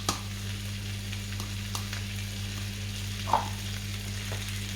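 Onions, garlic and curry powder fry in a pan for chicken in peanut sauce, giving an even, constant sizzle with a few faint clicks from stirring and a low steady hum, no voices.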